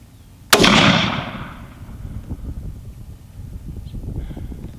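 Savage 110 rifle in .243 Winchester firing a single sharp shot while shooting groups at a range, loud crack followed by a long fading echo and quiet ambient noise.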